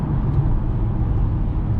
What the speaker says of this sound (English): that exhaust just sounds so good